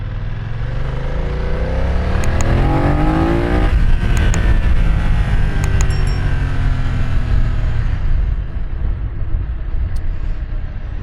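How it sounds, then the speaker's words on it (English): A BMW F900R motorcycle pulls at full throttle in second gear, its engine roaring loud and close as the revs climb steadily, then easing off into a rumbling deceleration with wind noise, no talking. "And now I went full throttle in second gear."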